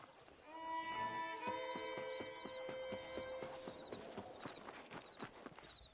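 In the video game Red Dead Redemption, horse hooves clip-clop in a steady walking rhythm, moderately close, over sustained music tones that fade as the hoofbeats carry on.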